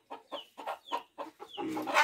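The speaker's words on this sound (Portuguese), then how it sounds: "as galinhas aqui ao redor" Chickens cluck nearby in a rhythmic series of short calls, about six in quick succession, ending in a louder, more continuous squawk.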